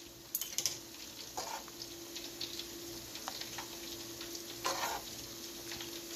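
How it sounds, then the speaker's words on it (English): Quiet, steady sizzling of meatballs frying in a pan, with occasional soft clicks and pops over a faint background hum. "And I did put some meatballs on. They're frying right now."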